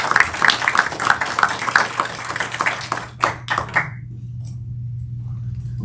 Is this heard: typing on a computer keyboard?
no